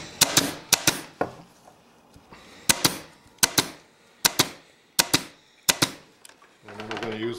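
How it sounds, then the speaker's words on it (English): A staple gun fires repeatedly into chair upholstery webbing, sharp close snaps in irregular pairs and singles, followed by a brief low mechanical rasp at the end. "we're going to staple this down"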